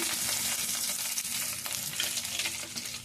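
Toor dal and drumstick leaves fry in a hot pan with a steady, dense sizzle and crackle that runs unbroken, close and fairly loud, with no voices.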